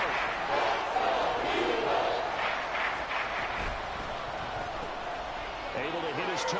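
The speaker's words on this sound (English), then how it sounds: "Here comes a big one as this crowd gets up making some noise." Football stadium crowd at a Cowboys game roaring and cheering on third and short, a dense, sustained wash of noise with a commentator talking over it.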